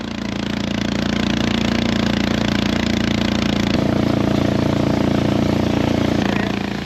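A trawler boat's engine drones loudly and steadily on a river trip in Bandarban, a close, continuous low mechanical throb with a slight shift in pitch midway.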